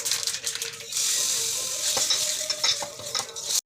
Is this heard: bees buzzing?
no